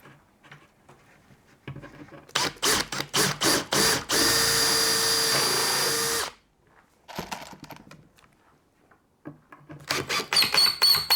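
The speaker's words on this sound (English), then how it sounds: "the next stage is to screw this side on" Cordless drill driving screws into the side of a melamine flatpack cabinet: a few short bursts of whirring, then a steady two-second run, a pause, and more short bursts, loud and close, with no talk.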